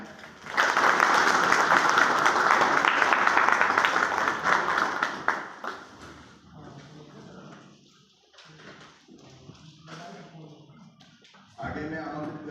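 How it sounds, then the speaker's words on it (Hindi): An audience at an agricultural science centre event in Rewa claps during a bouquet welcome ceremony. Loud, sustained applause fills about five seconds, then thins into scattered claps and quieter room sounds before a brief final swell. "तालियां बजाएं।"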